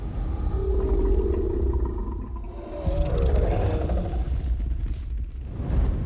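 A growling alien-dragon idle built from pitched-down recorded layers, including breathing: a deep, continuous rumbling drone with a wavering tonal moan through the middle, loud and close with no talking.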